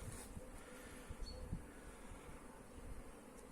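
Honeybees hum steadily in a soft, continuous drone at an apiary beside apricot trees, fairly quiet, with faint faraway background noise and no voices.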